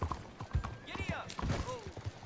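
Horse hooves clip-clopping in the Red Dead Redemption 2 video game, a few uneven steps mixed with game sound effects and a voice talking over them.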